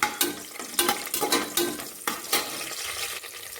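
Spices dropped into hot oil in a pan for mutton biryani, crackling and spattering in repeated bursts with stirring scrapes, close and fairly loud, fading slightly toward the end, with no voices.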